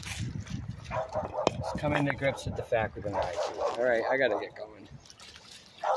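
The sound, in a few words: dog barking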